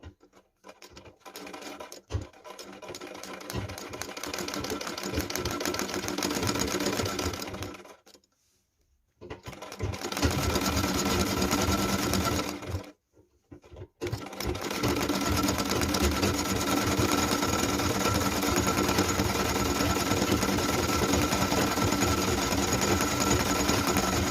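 A sewing machine stitches a small piece of velvet fabric, running in long fast whirring bursts with two short pauses, close and loud, with no talking.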